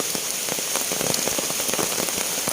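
Morning rain falls steadily on surfaces outdoors, a dense, even patter with scattered sharper drops, continuous and fairly loud throughout.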